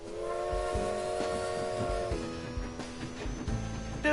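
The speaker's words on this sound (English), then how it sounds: "I guess this is like a mini train" A miniature ride-on train in the video game AI: The Somnium Files, with sustained whistle-like tones over a steady rumbling run, then clacking and a short rising blast near the end, no talk.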